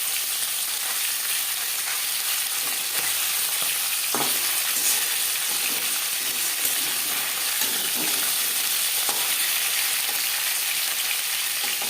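A snakehead fish fries lightly in oil in a pan, giving a continuous loud sizzle and hiss with a few faint stirring clicks and no talking.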